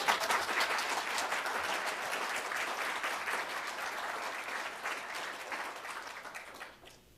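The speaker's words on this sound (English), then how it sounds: "Give him a round of applause." Sustained applause from a large audience at a reparations convention, steady and dense for about seven seconds before tapering off at the end.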